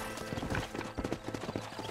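Horse hooves clip-clop in a steady, close rhythm while riding in a video game, with faint voices now and then.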